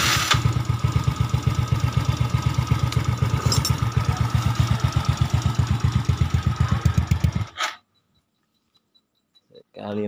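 A Yamaha Nouvo motorcycle engine, with a standard trigger-style starter and a newly replaced carburetor part, chugs in a steady rapid idle for several seconds and then cuts out abruptly, leaving brief silence before a faint restart begins.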